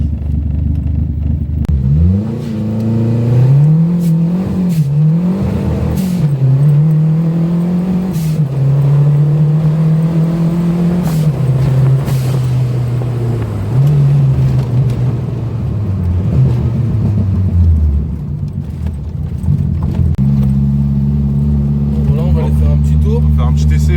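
A Renault Super 5 GT Turbo with a wide-body kit drives under load, its engine droning and rising and falling in pitch through gear changes, loud and close throughout with occasional on-off throttle bursts, while people talk over it.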